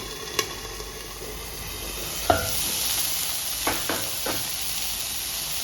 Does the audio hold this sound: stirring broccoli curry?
yes